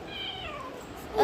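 A cat gives a drawn-out meow up close, followed by a brief louder cry at the end, amid a quiet room.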